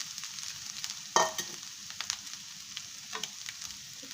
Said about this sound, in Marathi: बदाम परतले की त्यात ओला नारळ टाकून घ्यायचा आहे